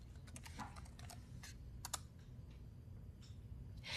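A computer keyboard is typed on to enter a command, with quiet, irregular clusters of key presses over a low background hum.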